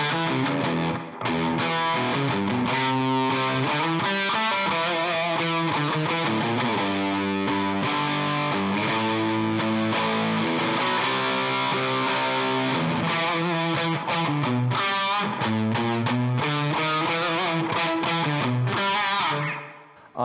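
A distorted electric guitar plays the chorus section of a song, breaking away from the main riff into a driving, continuous passage of heavy, saturated chords and lines, loud and unbroken, with no speech.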